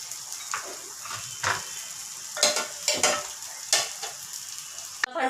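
Horse gram cooking water stirred into a pan of tomato rasam, with a soft sizzle and bursts of spoon scraping and liquid churning at irregular intervals, close by, ending in a sharp clack.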